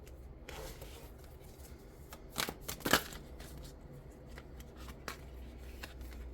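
Tarot cards shuffled, pulled and handled close by, soft papery rustles and slides punctuated by a couple of louder flicking snaps near the middle, faint and intimate throughout.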